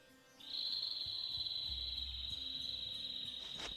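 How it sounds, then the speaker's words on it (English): A bird calling in a desert level of a video game: one long, thin, high whistle held steady for several seconds, close and clear over a low rumbling ambience. "A bird? In this desert? It sounds close."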